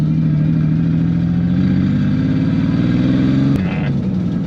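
A Mercedes-Benz with a swapped-in Toyota Supra engine and six-speed manual gearbox drives on the street. Its loud, close engine hum climbs steadily in pitch, then drops abruptly at a gear change near the end.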